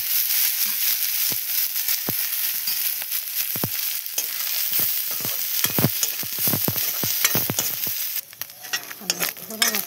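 Dried fish fries in a pan with a steady, close hiss of oil, broken by sharp crackles and the scrape of stirring toward the end.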